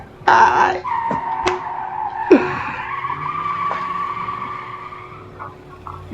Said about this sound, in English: Insert car screeching sound.